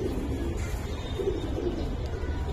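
Pigeons coo at a pigeon market, a steady low murmur of several birds layered together at moderate loudness with no voices over it.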